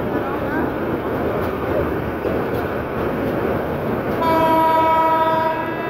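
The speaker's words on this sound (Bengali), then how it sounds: "আখাউড়া রেলওয়ে জংশনে প্রবেশ করছে ট্রেনটি কর্ণফুলী কমিউটার।" Karnaphuli Commuter train pulling into Akhaura railway junction, Bangladesh, rumbling and clattering steadily, then a loud, sustained horn blast sounds over the noise near the end.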